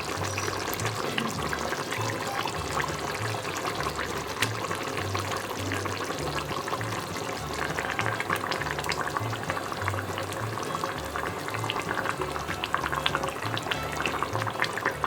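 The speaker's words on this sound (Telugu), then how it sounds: "ఇప్పుడు శుభ్రపరచుకున్న చేప ముక్కలను వేద్దాం." Nellore-style fish curry bubbling steadily on the stove as cleaned fish pieces go into the thick simmering tamarind gravy, a continuous close boil and gentle liquid movement with no talking.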